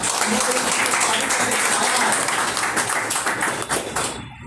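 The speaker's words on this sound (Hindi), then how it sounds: "मैं अपने सीएमडी सर के लिए एक बार जोरदार ताली चाहूंगा" Audience at a network marketing motivational seminar bursts into loud applause for the company CMD, a dense roar of clapping that holds strong, then thins and cuts off abruptly at the end.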